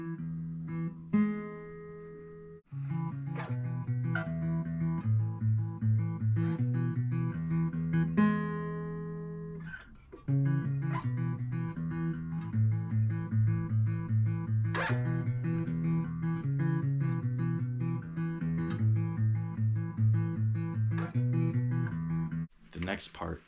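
Acoustic guitar playing a part of a song, picked as clear, repeating melodic notes in a steady pattern. It is fairly soft and heard alone, with a brief gap early on.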